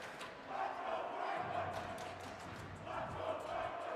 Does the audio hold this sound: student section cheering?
yes